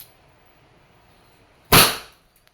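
A single sharp crack of a Wingun 708 airsoft revolver fired in double action, close and loud, after a quiet pause, with a faint click just after.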